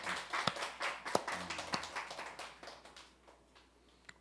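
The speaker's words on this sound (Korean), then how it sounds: "우리 박수로 한번 환영하겠습니다." Scattered hand claps from a small group, sharp and uneven, fading out over a few seconds, with no talking.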